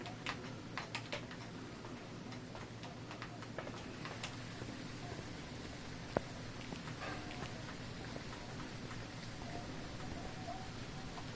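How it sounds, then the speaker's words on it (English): Steady rain in the horror video game Phasmophobia, a soft continuous patter beneath frequent light ticking clicks, fairly quiet and even throughout with no speech. "if you leave the camera in night vision mode, it's just regular rain"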